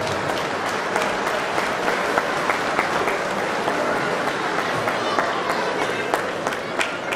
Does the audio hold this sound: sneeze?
no